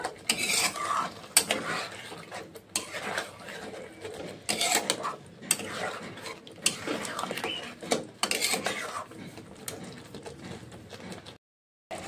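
A spoon stirs coriander leaf paste into chicken in a pan, with irregular scraping and clinking bursts against the metal and brief pauses between strokes, close and fairly loud.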